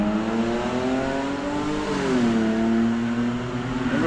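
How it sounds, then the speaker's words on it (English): A loud-muffled vehicle or motorcycle rumbles past close by on a street in Maine, its steady engine drone swelling and shifting pitch as it goes by, heard alone without talk. "there's always a loud muffler or a motorcycle"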